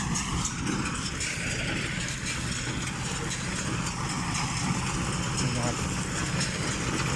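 Small engine fitted to a straw baler runs at a steady idle, a continuous low mechanical drone with faint rattling throughout, fairly loud and unbroken.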